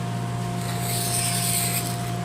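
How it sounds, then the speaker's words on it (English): A sharp hand blade shaving along a wooden edge to round it off, giving a steady close rasping scrape that runs continuously under a low constant hum. "you want to have a sharp blade and just change the angle each time you run it across"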